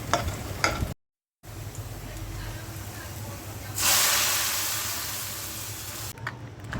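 Onions frying in a pan for a vegetable dish, a steady broadband sizzle with stirring scrapes that swells louder midway and then slowly fades, heard alone without talk.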